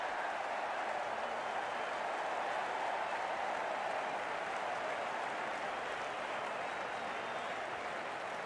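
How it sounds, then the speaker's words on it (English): Crowd at a cricket match, a broad, steady wash of applause and cheering that holds at an even level throughout without a break. "The crowd's on their feet"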